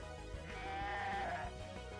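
A sheep Pokémon from the game Pokémon Uranium lets out a single drawn-out, wavering electronic bleat, clear and steady for about two seconds.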